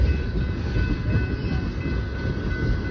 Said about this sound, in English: I look down there and there's a train.